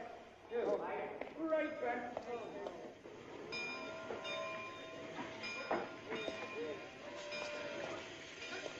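Train sounds, clanking and rumbling rail cars, with a steady background of machinery and people talking over it, as army recruits board the train in a Hollywood movie.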